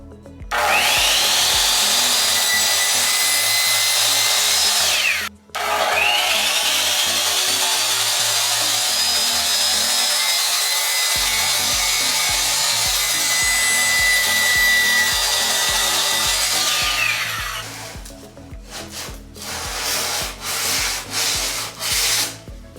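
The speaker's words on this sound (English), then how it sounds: "It's gotta cut off 1/4 inch off every board. You know what I like about this saw?" A power saw with a laser guide cuts a quarter inch off wooden boards for a feature wall: two long, loud, steady cuts separated by a brief pause, then a series of shorter rasping bursts.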